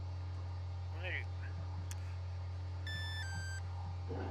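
A QRX 350 PRO drone gives short electronic startup beeps, a couple of faint tones over a constant mains-like hum, with quiet handling noises nearby.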